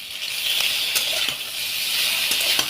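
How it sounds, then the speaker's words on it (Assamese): Pork frying in a pan with salt, turmeric, ginger and garlic gives a loud, constant sizzle and hiss with a few sharper crackles and pops, close by and without any talk. "নিমখ হালধি দি ভাজি আছোঁ"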